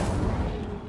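Incendio fire spell cast in the Hogwarts Legacy video game, a dense, continuous roaring burst of fiery noise with rumbling low booms, loud and steady across the whole short moment.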